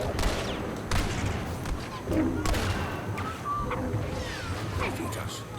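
Blaster gunfire in a Star Wars video game, repeated shots and bursts under frequent talking, with game explosions and battle noise throughout.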